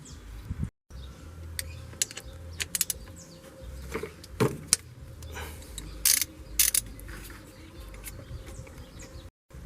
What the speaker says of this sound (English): In order to remove the belt, it is necessary to loosen these three 13mm bolts